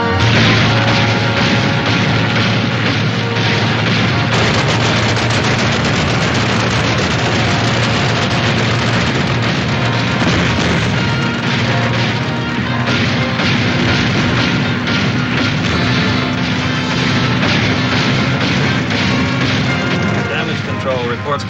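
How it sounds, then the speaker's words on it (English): A warship's guns firing in battle, heavy booming blasts over a dense, continuous roar of noise throughout, loud and sustained, with a voice faintly audible underneath. "Commence firing."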